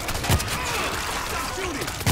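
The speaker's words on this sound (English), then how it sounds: "Stop shooting!" Sustained gunfire and bursts in the zombie shooter World War Z, filling the whole moment in a tunnel, with a voice shouting over the shots.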